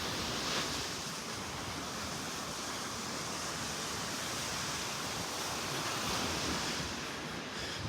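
Ocean waves on the empty beach by Naples Pier in old Naples, a steady broadband wash of surf with some wind hiss, continuous and moderately loud with no voices.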